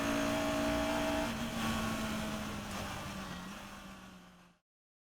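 A Caterham 420R race car at Croft circuit accelerates hard through the gears, its engine note holding loud and steady before tapering off as it pulls away, with no talk over it.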